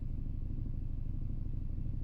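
A 2004 Toyota Avensis engine with a repaired EGR fault idles steadily at 800 rpm, a close, even low rumble with a rapid regular pulse and no other sounds.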